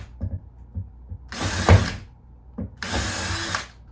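A drill bores holes through a plaster ceiling around a recessed light outline, giving two short, loud bursts of high grinding drilling with quieter ratcheting clicks and handling noise in between.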